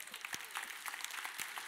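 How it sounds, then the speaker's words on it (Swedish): Short burst of audience applause during a lyrical talk on mining heritage, a dense patter of claps with a few sharper individual hand claps standing out. "en stor applåd!"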